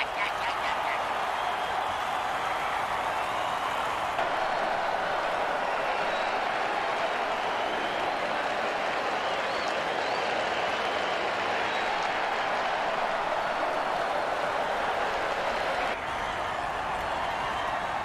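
A stadium crowd cheers continuously in an American football video game after a defensive offside penalty on third and two, producing a loud, sustained roar with no break.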